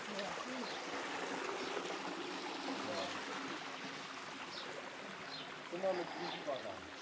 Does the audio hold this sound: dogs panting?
no